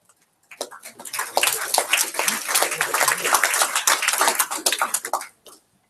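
An audience at a British Championships closing ceremony bursts into sustained clapping for an absent honoree. The applause swells quickly, holds as a dense, steady patter for about five seconds, then stops abruptly.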